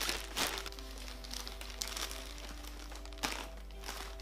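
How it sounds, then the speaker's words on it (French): Crinkly plastic parcel packaging being cut open with scissors, a close, steady crackling rustle with a few sharper snips and crunches along the way. "je me suis prise des ciseaux parce que je sais que ce plastique-là, il n'est pas très facile à ouvrir avec les doigts"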